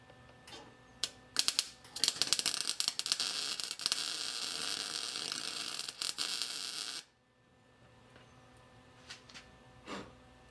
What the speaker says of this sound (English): I'm going to weld a little more on it.